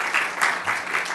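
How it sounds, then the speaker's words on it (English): A brief burst of audience applause at a library tutor and learner recognition event, dense steady clapping from a room full of people. "Give yourselves a round of applause."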